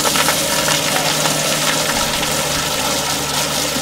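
A toilet flushes inside a Jayco Crosstrak camper van, a loud, close rush of water with a pump-like hum that holds steady throughout.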